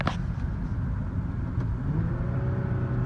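A pale white Nissan 370Z with a 7-speed automatic transmission driving along, its engine a low steady rumble with mild revving and road noise heard from inside the cabin.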